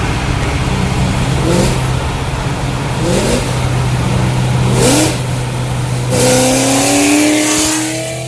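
A Ford GT500 with a Ford Racing Sport axle-back exhaust revs hard several times in quick bursts at wide open throttle, a deep rumbling exhaust roaring up and dropping back, loud and close.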